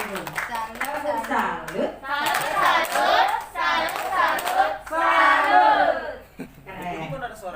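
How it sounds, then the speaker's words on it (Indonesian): An audience at a teachers' workshop claps and cheers for a speaker, with bursts of loud voices and shouts mixed into the clapping and people talking over it. "Tepuk tangan untuk Ibu."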